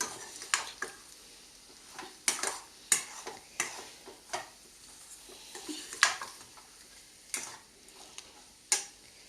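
A spatula stirs a tamarind-leaf and egg fry in a pan, producing sharp, irregular scraping clicks every second or so over a quiet, faint sizzle.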